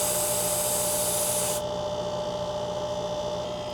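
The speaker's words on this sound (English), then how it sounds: "I'm going to slightly twist this hose loose to bleed out any air that may be trapped inside of this refrigerant hose." Air hissing out of a refrigerant hose twisted loose at an R32 system install, a strong steady close hiss for about a second and a half that cuts off abruptly, leaving a low hum.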